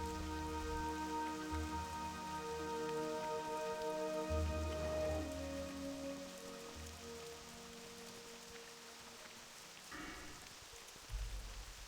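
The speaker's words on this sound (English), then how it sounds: "Sometimes we get lucky and it rains for a little bit and then it'll clear up." Steady rain falls in World of Warcraft: Wrath of the Lich King Classic, a soft continuous patter under low sustained background music, fairly faint throughout.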